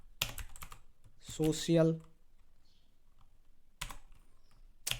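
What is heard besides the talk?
typing on a computer keyboard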